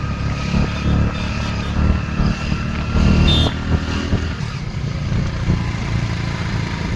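Motorcycles ride along a hilly road between the Naina Devi and Baba Balak Nath shrines, passing a dam. A steady, close engine drone with wind rush runs throughout, with slight swells in intensity and no clear speech.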